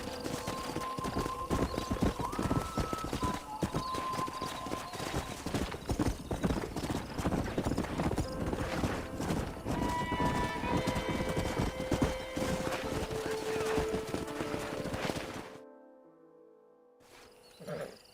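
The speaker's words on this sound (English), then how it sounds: "We got some fine horses." Horses in the Red Dead Redemption video game clop steadily along with a dense hoofbeat rhythm, a whinny rising briefly over the busy game soundscape before it cuts to near silence at the end.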